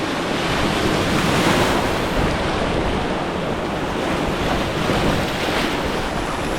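Canoe travelling down a large wild river between Norway and Sweden, with steady broadband rushing of flowing water and wind buffeting the microphone, continuous and fairly loud throughout with no talking.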